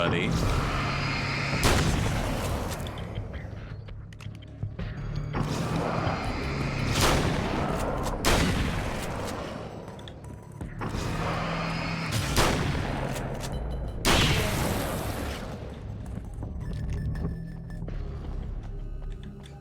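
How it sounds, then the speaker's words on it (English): Repeated shotgun blasts in Alan Wake's American Nightmare, several loud booming shots spaced a few seconds apart over a constant low game soundtrack rumble. "Definitely good use of shotgun shells there."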